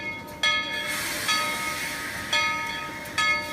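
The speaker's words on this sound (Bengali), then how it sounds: "স্টিম ইঞ্জিনে টানা ট্রেন এক রাশ সাদা ধোঁয়া ছাড়তে ছাড়তে রওনা দেয় হ্যাম্পশায়ারের উদ্দেশ্যে।" A steam train departs, its engine giving four loud, evenly spaced hissing chuffs of steam over a steady rolling rail rumble.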